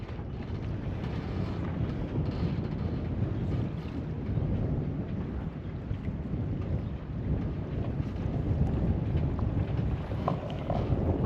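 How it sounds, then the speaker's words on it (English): Strong wind buffets a sailboat at night, a steady close roar of gusts and microphone rumble with faint water wash beneath, never letting up. "the wind has sort of started to drop off a bit now"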